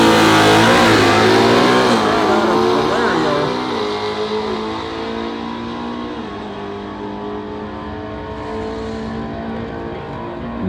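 A drag race car with a 302 Cayuga engine and no power adders roars loud and close, its revving engine pitch sweeping as it pulls away down the strip and fades, with a commentator's voice over it.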